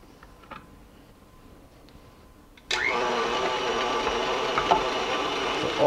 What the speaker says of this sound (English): We're going to grind it through the meat grinder.